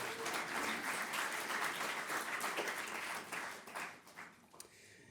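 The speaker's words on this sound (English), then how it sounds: "You'd all deserve your own round of applause." An awards-ceremony audience applauds steadily with dense, continuous clapping that holds loud for several seconds, then thins out and fades toward the end.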